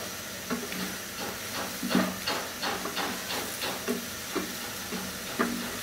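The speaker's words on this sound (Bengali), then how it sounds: "আমি এখন ফুলকপির সাথে মিলাই এটাকে একটু ভেজে নিব একসাথে" Cauliflower and egg fry together in a pan with a continuous close hiss, broken by regular scraping stirs that land about every half second.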